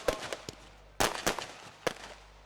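Firecrackers bursting during a cricket league final, a series of sharp cracks and pops, some single and some in quick clusters, moderately distant with faint ambient noise between bursts.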